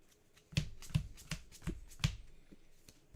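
Playing cards riffle-shuffled at a tournament table for a collectible card game, a series of sharp crisp bursts of fluttering card edges at an uneven rhythm, close and fairly quiet, with no talk.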